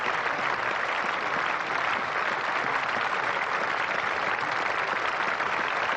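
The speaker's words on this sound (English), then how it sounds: "this is the opportunity of quite a good crowd here at the Oval to congratulate Gower" A large crowd at the Oval cricket ground applauds a batsman during a 1986 England versus New Zealand Test match, with sustained, even clapping that continues unbroken throughout and stays loud and dense, with no voices standing out.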